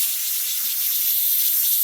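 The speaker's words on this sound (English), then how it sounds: "as soon as it's the pressure comes completely down, this will go down and steam will quit coming out." Steam vents steadily from the pressure release valve of an Instant Pot cooking a pot roast, a loud continuous close-up hiss with no talk.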